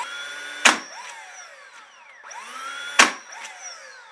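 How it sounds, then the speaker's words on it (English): Two sharp hammer strikes spaced a couple of seconds apart, each driving a nail into glued staircase wood, with a ringing decay after each hit and quiet gaps between. "I'm just going to put 2 nails in here to hold it while the glue dries"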